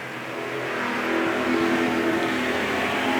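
Race cars roar around the Bakersfield Speedway oval, a loud steady wash of engine noise with revs swelling slightly, heard from trackside without talk.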